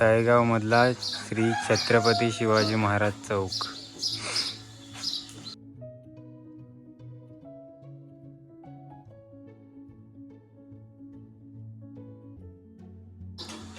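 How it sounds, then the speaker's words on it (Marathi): Birds chirp and tweet in a busy village square in Talegaon, with a rooster's crow and clucking mixed in. Someone talks over the first part, then the bird calls carry on faint and distant beneath a low background hum. "ही कशी मस्त चिमण्याचा आवाज येते."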